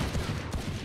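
Gunfire in the video game Valorant, a fast burst of shots fired in quick succession, loud and close throughout with no talk over it.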